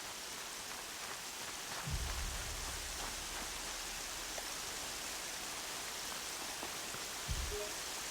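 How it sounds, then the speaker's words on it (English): Steady rain falls in the Horizon Zero Dawn video game as an even, hissing wash that fills the whole stretch, with two brief low thuds partway through and no speech. "Why did I feel like it always rains when I do this bandit camp?"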